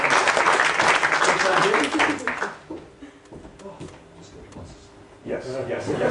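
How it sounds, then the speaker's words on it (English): An audience applauds loudly for a volunteer at a live show, the clapping fading after a couple of seconds into chatter and talk, then rising again briefly near the end. "Can you have a huge round of applause for Emily, please?"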